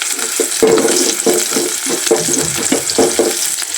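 A tempering (bagar) of cumin in hot oil sizzles loudly in a small pot close by, a continuous hiss broken by several stirring knocks and scrapes, with no talking.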